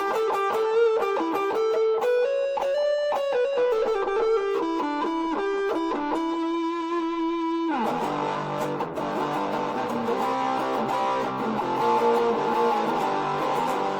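Electric guitar played through a Marshall MS-4 Microbe mini full-stack amp with compression and chorus. Single picked notes ring out first, then strummed chords take over, loud and steady with no talking.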